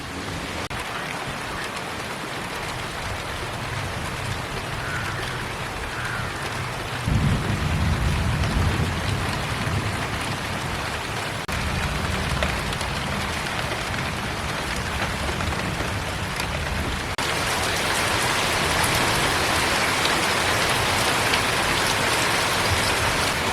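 Unseasonal afternoon downpour in the Konkan with thunder, a steady hiss of rain on surfaces that swells heavier partway through, with low rumbling thunder rolling underneath; no voices.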